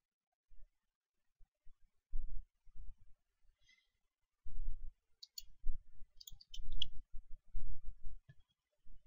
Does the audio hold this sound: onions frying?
no